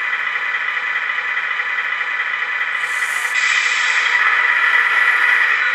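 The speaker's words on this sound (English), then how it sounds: "And then I'll have my truck running." A sound unit in a 1/14 Tamiya King Hauler RC dump truck plays a simulated engine running: a steady, hissy electronic drone that holds at a constant level and swells slightly partway through, close and alone.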